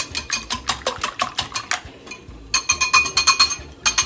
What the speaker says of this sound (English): You're going to whisk this egg right here.